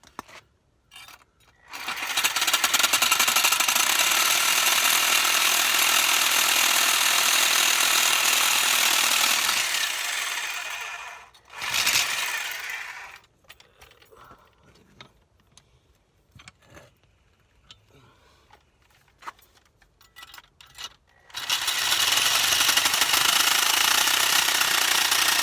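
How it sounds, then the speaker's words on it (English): A power drill bores into a fuel line fitting from a 1993 Toyota MR2 Turbo, whining loudly in two long bursts and a short one, with quiet clinks and handling noises between them and no talk. "we need a drill"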